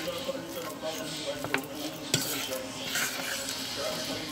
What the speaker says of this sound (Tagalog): Tapos paghaluin lang natin. Halo lang, halo.